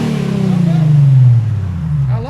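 A 2006 Infiniti G35 with dual exhaust and the muffler deleted revs loudly up close, its deep engine note climbing and then falling back across one sustained pull, with a second rise starting at the end.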